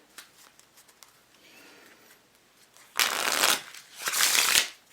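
A deck of Bicycle Blue Collar playing cards with air cushion finish is handled with light ticks and flicks, then two loud, close riffle shuffles with a crisp fluttering burr.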